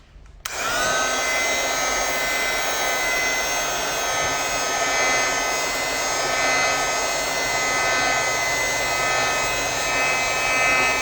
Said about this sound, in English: So I'm gonna just dry this for a second.